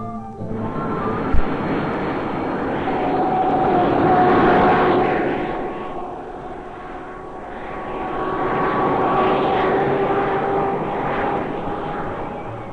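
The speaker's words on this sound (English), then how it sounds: "Aided by frontier guards on the ground are flying patrols of the Israel Air Force." Israeli Air Force jet aircraft on patrol, a loud continuous engine roar with a tonal whine that swells, dips and swells again as the planes pass, heard alone without talk.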